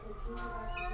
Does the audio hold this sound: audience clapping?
no